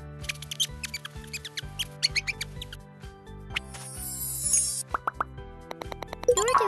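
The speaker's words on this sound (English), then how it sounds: "Mouse say squeak, squeak." Cartoonish mouse squeaks and quick plopping sound effects in a children's tracing game, a rapid string of short, bright chirps and pops over a soft, plinking musical backing.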